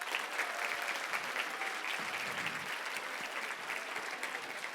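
An audience at a youth forum claps steadily throughout, a dense, even wash of applause that stays level from start to finish with no voices standing out.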